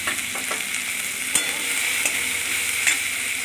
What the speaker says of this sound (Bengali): ভালো করে ভেজে নিলাম।